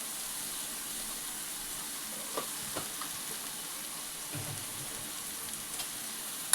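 Ivy gourd (tondli) frying over a low flame in a pan, a quiet steady sizzle broken by a few soft scraping stirs as the vegetables are mixed, with no talking.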